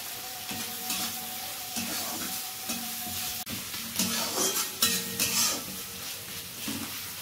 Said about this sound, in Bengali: কড়াইয়ে তেলটা গরম হওয়ার পর কাঁচা লঙ্কা ছেঁড়াগুলো দিয়ে এবার এই সমস্ত পেঁয়াজগুলোকে ভালো করে লাল লাল করে ভেজে নিতে হবে